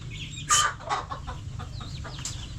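Mother hens cluck in a farmyard: a few short, sharp clucks up close, then softer scattered calls over a low background hum.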